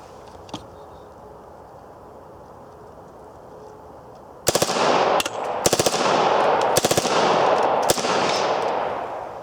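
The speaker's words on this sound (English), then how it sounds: "Another 12 rounder. Full auto." Reising submachine gun emptying a 12-round magazine on full auto outdoors, starting after about four seconds of quiet: a loud, fast burst of gunfire that breaks into a few short rapid bursts with sharp cracks, then a fading echo.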